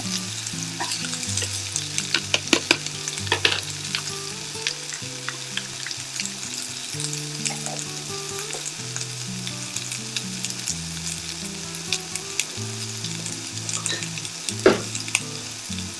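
Onion and celery softening in butter in a frying pan, a steady close sizzle with crackling pops and occasional utensil clicks, with no voices.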